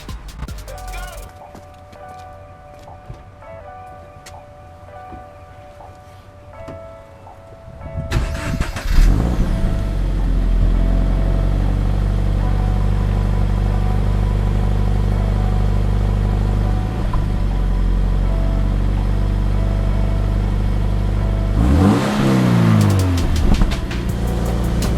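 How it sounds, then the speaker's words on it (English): A Subaru BRZ engine starts up in a garage and idles steadily at close range, then revs briefly as the car pulls out, following quieter ambient sounds at the start. "And then we'll pull the car out and we'll see what it looks like."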